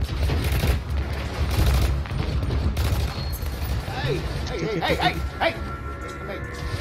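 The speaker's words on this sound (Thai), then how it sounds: "โอ้ไอลุงคนนี้เฮ้ยไอลุงนี่เขายิงอะไรวะ" Gunfire bursts out in the video game Hitman Absolution: rapid volleys of shots and booms crackle steadily, while a person talks excitedly over the game action.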